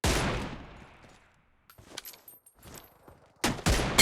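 A bolt-action M24 sniper rifle fires in the mobile game PUBG Mobile, with one sharp loud report at the start that trails off, then a few lighter clicks and a couple of close, heavy bursts near the end.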